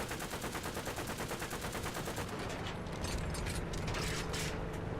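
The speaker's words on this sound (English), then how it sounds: "Machine guns go out, but it gave the sound of just reloading" Fighter plane machine guns in a video game rattle in a rapid, steady burst of close shots, giving way to mechanical clicking and clanking near the end as the weapons reload, with no talk.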